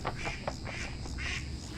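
Ducks in a New Jersey marsh give several short, raspy quacks in quick succession over a rumbling outdoor background.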